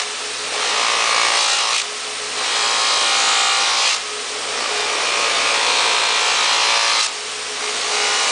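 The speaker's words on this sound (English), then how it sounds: "So I'm doing a cut movement, only polishing this direction." Buffing of stainless steel trim on a polishing wheel loaded with black rouge: a steady, loud whirring rub that swells and eases in long strokes, alone with no talk.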